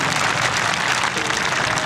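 A crowd at a village kabaddi final between Pakistan and India claps in a thick, continuous roar of applause, loud and close, with no clear speech over it.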